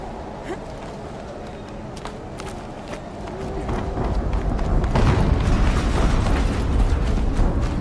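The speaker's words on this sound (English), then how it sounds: "An explosion." An explosion in the video game Horizon Zero Dawn: a low, rumbling blast swells in after a few seconds and stays loud and sustained over the rest of the clip.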